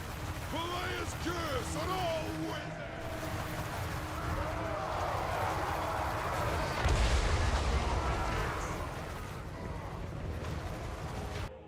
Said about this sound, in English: The Hell Cannon is doing a lot of damage.